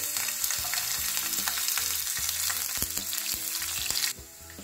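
Finely chopped garlic cloves hit hot oil and crackle loudly and steadily, with a few utensil knocks against the pan, close up, before the sizzle drops sharply near the end.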